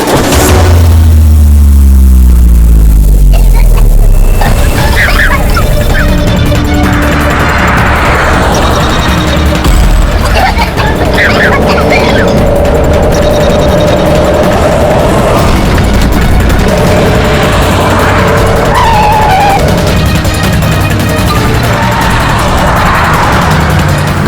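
A car engine roars and revs loudly through a tense action scene, with booming impacts and a sustained skidding, crashing din that stays dense and forceful from start to finish.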